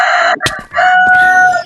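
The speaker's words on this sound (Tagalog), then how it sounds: "Ay, may manok pa." Chicken in a Minecraft-style video game, a short loud burst of clucking and crowing calls, close and clear, lasting under two seconds.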